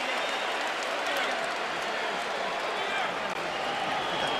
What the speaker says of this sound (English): Many here want to see a fight turn into a brawl, and they cheer Baldomir for his effort.